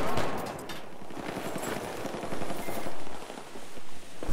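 Rapid bursts of unsilenced automatic gunfire in a Battlefield 4 match, loud and close, with shots rattling in quick succession and barely a pause.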